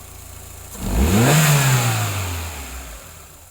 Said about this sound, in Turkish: Şöyle bir gaz verelim bakalım.